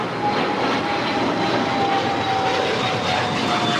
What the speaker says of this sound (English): We do have Virgin Atlantic Flight 7 coming in from London, 787-9 Dreamliner.